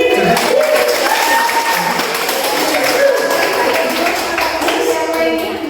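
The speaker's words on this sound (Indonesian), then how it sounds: "Mbak Desi, tepuk tangan dulu." An audience at a university teaching session applauds. The clapping is loud and close and continues steadily throughout, with voices mixed in.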